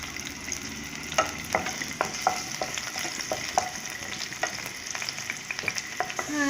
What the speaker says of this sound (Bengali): উচ্ছেটা ভেজে নিচ্ছি